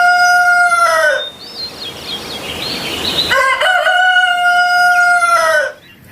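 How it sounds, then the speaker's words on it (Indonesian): A rooster crows twice, loud and close, each long drawn-out cock-a-doodle-doo separated by a noisy gap with faint clucking. "Ayam jantan."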